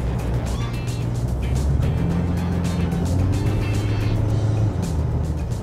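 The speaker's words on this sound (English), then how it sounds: "Applying a little bit of power by pushing down the accelerator actually almost seemed to flummox the automatic gearbox just for a moment" A Mitsubishi L200 Series 6 pickup with an automatic gearbox accelerates, its engine giving a low, steady drone with a slight rise in pitch, heard from inside the cabin alongside road noise.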